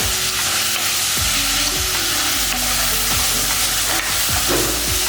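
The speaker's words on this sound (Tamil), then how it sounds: "இந்த தக்காளி, வெங்காயம் எல்லாமே நல்லா வதக்கிட்டோம்" Tomatoes, onions and green chillies with salt sautéing in a pan, a steady loud sizzle with repeated scraping stirs of a spoon every second or so, no voices.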